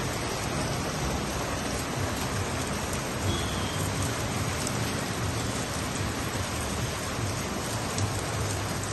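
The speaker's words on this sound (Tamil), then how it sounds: "நேற்றும் மழை, இன்னைக்கும் மழையாக இருக்குது" Heavy rain pours steadily on a monsoon day along the road from Chiplun toward Goa, a dense continuous hiss with faint low rumbles of thunder far off underneath, no voices.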